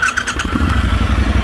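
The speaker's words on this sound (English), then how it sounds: "it fires right up, idling very happily" A 2019 Triumph Scrambler 1200 XE motorcycle engine cranks and fires, then settles into a steady, throbbing idle heard up close and loud with no talking.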